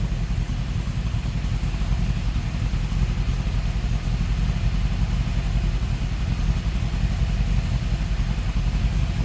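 A 1958 Chrysler 300D engine running steadily at idle, a close, even, chugging rumble with a faint clattering texture throughout, no talking.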